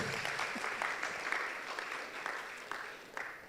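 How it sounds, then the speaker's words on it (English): Moderate audience applause at a business forum, scattered clapping that thins and fades toward the end. "Another round of applause for Coach Jerry."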